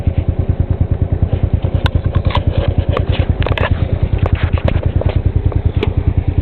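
A Hammerhead SS250 engine chugs in a fast, steady pulsing beat while being ridden on county roads, with irregular pops and crackles of sputtering breaking through.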